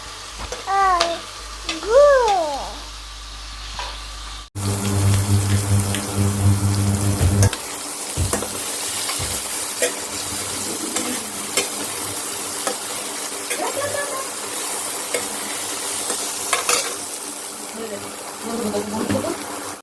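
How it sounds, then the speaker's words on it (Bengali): Oil sizzles steadily as pumpkin flowers fry in a pan, with occasional stirring scrapes; a brief voice is heard at the start before the frying dominates. "তো হয়ে এসেছে কুমড়ো ফুল ভাজাটা"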